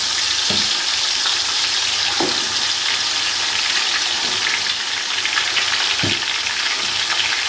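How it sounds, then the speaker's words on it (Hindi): Camel meat for nihari frying in a pot makes a loud, continuous sizzle close by, broken by a few dull knocks and stirring thuds, with a faint low rumble from the stove underneath. "अब इसमें हम जो है ना साथ में ही इसके गोश्त डाल देंगे"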